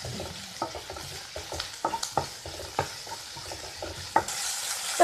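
Onions sauté with salt in a pan, a quiet sizzle punctuated by frequent spatula scrapes and taps at an uneven rhythm.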